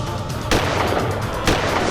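Two sharp gunshots, about a second apart, crack over a steady background rumble.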